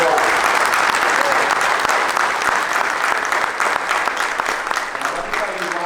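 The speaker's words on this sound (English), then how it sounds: "Let's give him a round of applause." Sustained applause from a crowd at a conference opening keynote, steady clapping that fills the room for several seconds without letting up.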